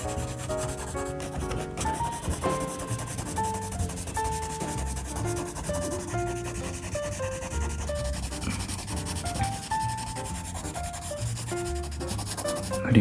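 A colored pencil rubs steadily across paper as a lighter shade is blended over the color, a continuous soft scratchy texture lasting throughout beneath background music.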